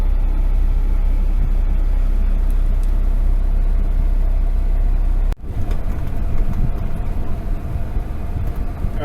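A truck climbs Wyoming Highway 14 through the Bighorn Mountains, its engine droning loud and steady with road rumble throughout, interrupted by a brief sharp drop before the noise resumes.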